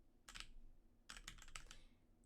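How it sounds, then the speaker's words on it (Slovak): Typing on a computer keyboard while making a Roblox skin: a short burst of keystrokes, a pause, then a longer quick run of clacky presses, close up in a quiet room. "Počujete klávesnicu však"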